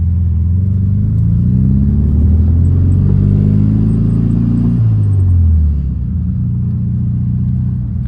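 Steady low engine rumble of a 1972 Volkswagen Beetle driving, its pitch sliding up and down as it shifts and accelerates, loud and close throughout.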